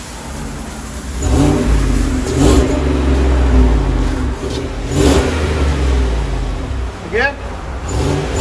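A lifted 2014 Chevy Silverado with a 5.3L V8 and dual straight-pipe exhaust revs loudly and close by, several sharp throttle blips rising over a deep rumbling idle, with someone speaking briefly between them.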